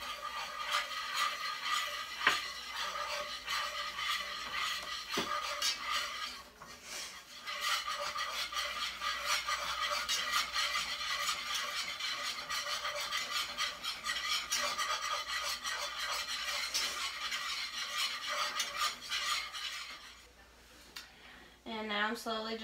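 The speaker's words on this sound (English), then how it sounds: "I'm gonna go ahead and add 2 tablespoons of flour and make the" Flour stirred into garlic and butter in a pan for a roux gives a continuous scraping, rasping hiss, steady for most of the stretch with a brief lull partway and a quieter close.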